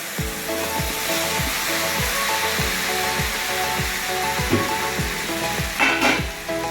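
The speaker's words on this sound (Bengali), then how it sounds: "এবার আমি এর মধ্যে পটল এবং আলুগুলো দিয়ে মশলার সাথে ভালোভাবে কষে নিচ্ছি।" Potatoes and pointed gourd are sautéed in spice paste, making a loud, constant hiss of frying close by, with a rhythmic pulsing hum running underneath and no speech.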